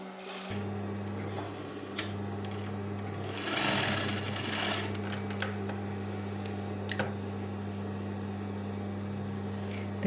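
Sewing machine stitching a red square onto yellow fabric, a steady continuous mechanical hum and rapid needle rattle running throughout, close and even in level.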